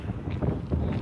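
Wind gusts outdoors at a bus stop, a steady low rumble of air buffeting the microphone throughout the brief moment, fairly close and rough.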